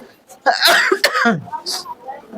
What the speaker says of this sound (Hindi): खांसी हो रहा सॉरी